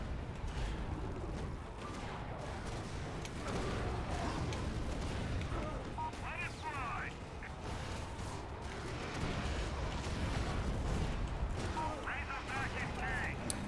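Airstrike explosions in the action video game Prototype, dense rumbling blasts that keep coming under continuous game noise, with a player talking over them.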